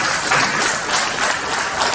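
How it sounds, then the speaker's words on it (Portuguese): A church congregation claps together in a steady, dense burst of applause, loud and close, filling the room for the whole two seconds with no voices above it. "dá uma salva de palmas para Jesus."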